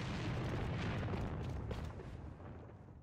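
A single heavy sniper rifle shot in a competitive video game match booms loudly at the start and rolls off into a fading rumble over about three seconds.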